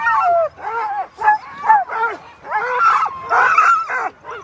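Sled dogs at the Willow sled dog race in Alaska bark, yip and whimper in a close, busy chorus of overlapping calls, with short pauses between bursts.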